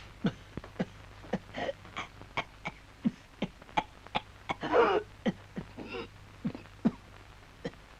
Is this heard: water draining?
no